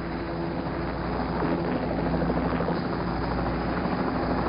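A rescue helicopter holds steady nearby during the Apollo 11 astronaut hoist recovery, its rotor chop and engine whine forming a constant, loud drone throughout.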